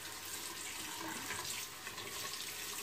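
A tap runs steadily into a sink during a wet shave with Figaro menthol shaving soap and a Gillette Wilkinson Sword razor, making a continuous close hiss of flowing water with no voices.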